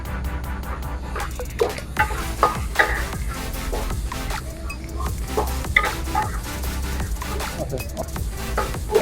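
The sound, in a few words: onions frying in a pan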